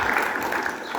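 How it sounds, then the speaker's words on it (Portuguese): Applause from a school audience at an Escola Estadual Presidente Tancredo Neves assembly during a slavery museum visit, a steady dense wash of clapping filling the whole moment. "Palmas para Nicole aqui"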